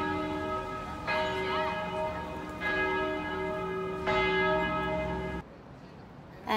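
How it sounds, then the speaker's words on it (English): A church bell tolls slowly in an old town alley, three or four resonant strikes each leaving a long, humming, shimmering decay before the ringing cuts off and faint street ambience remains. "the sound, the vibration of the bell. It's just a very soothing sound"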